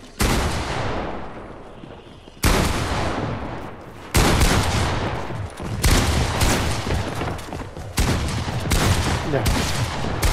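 Rapid bursts of Fortnite video game gunfire play in loud, dense volleys separated by brief pauses, continuing throughout at close range.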